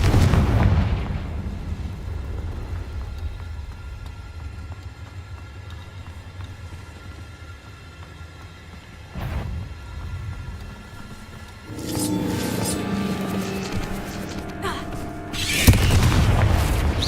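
Confringo fire spell explosions in the video game Hogwarts Legacy, a low booming blast at the start followed by a sharp burst in the middle and louder crackling blasts near the end, set against a steady rumbling game ambience.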